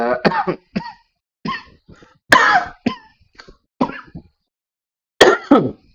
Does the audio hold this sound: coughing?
yes